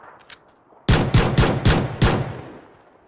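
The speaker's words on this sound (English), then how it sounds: "Oh, they shot at me." A rapid burst of about five loud gunshots, fired at the player in a video game, cracks close by in quick succession after a brief quiet lead-in, then fades out.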